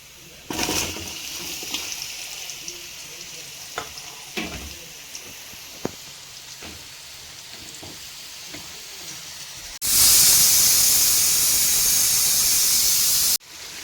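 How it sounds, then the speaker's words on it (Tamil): Onions and green chillies hit hot oil in a pan for mutton dum biryani, sizzling steadily with scattered clicks and handling noises, then a loud, bright hiss surges for several seconds near the end before cutting off abruptly. "எண்ணெய் சூடாயிருச்சு இப்போ வெங்காயம் பச்சை மிளகா போடுவோம்"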